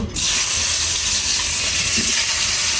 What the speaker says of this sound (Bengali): মাছগুলো ভাজা শেষ এবার আলুগুলো ভেজে নেবো একটু